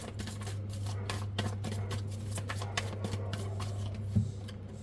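Tarot cards being shuffled by hand, a dense run of close, papery riffles and flicks lasting about five seconds over a steady low electrical hum.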